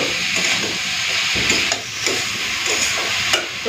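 Ash gourd pieces with salt and turmeric are stirred in a hot pan, giving a steady frying sizzle broken by several scraping strokes of the spoon at close range, with no talking.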